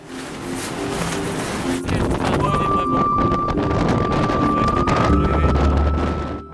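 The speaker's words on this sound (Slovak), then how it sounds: "Najprv vetrík, potom vietor a nakoniec tu máme výchricu." Strong wind gusts batter a snowy mountain ridge, roaring and buffeting the microphone in a loud, continuous rush with a faint whistling tone running through it.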